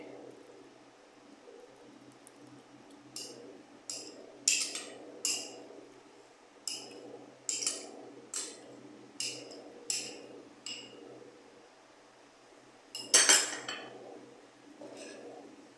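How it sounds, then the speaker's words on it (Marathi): Spoon stirring mung bean biryani with coconut milk in a cooking pot, a steady run of about a dozen rhythmic clinks and scrapes against the metal, ending in one louder clank, with a faint background hum. "मीठ चांगल्या प्रकारे ढवळून घ्या."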